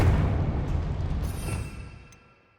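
A Confringo blasting spell detonates in Hogwarts Legacy as a single heavy, rumbling boom that starts loud and decays over about two seconds, ending with a faint click.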